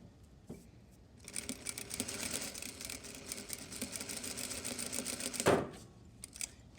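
A sewing machine stitches around a bound buttonhole in a steady, continuous mechanical whir lasting several seconds, with a sharp clack near the end as it stops; no one speaks.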